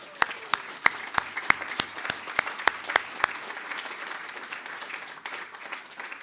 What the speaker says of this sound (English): let's start with a round of applause for that.